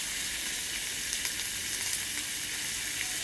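Turmeric and Kashmiri chilli powder sizzling in a hot pan, a steady even hiss that holds close and constant throughout with no voices.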